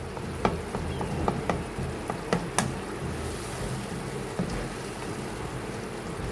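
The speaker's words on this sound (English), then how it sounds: "Then you need to stir it." Ginger garlic paste fries and is stirred in a pan, giving a steady close sizzle broken by several sharp clicks of a utensil against the pan. No talking is heard.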